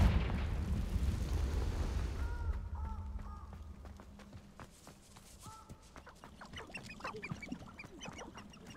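A Confringo fire spell goes off in Hogwarts Legacy with a loud, deep burst that fades into a low rumble, followed by scattered game effects, chimes and faint clatter.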